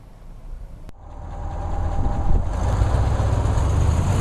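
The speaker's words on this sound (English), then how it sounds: "I hit the throttle and this buzzy, nasty, thrashy thing from under there starts making noise" A car engine rises from a low idle into a buzzy, thrashy rev under the throttle, growing louder and holding a coarse drone after a brief click near the start.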